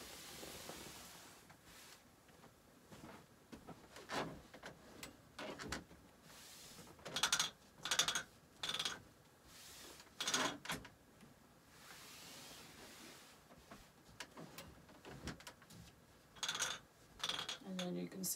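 A longarm quilting frame rolling a quilt onto its bar, giving intermittent mechanical ratcheting clatters and scraping bursts at irregular intervals, fairly quiet and close.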